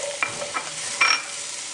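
Bacon bits stirred back into a pan of beef barley stew, a few soft scrapes and clicks over a steady hiss of sizzling.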